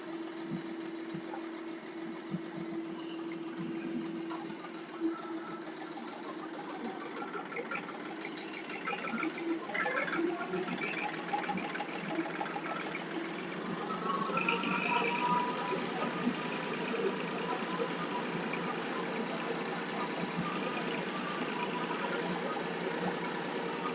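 A tractor engine runs steadily throughout at moderate loudness, a continuous low drone with a slight rise partway through, as if driven around a lap, with no talk over it.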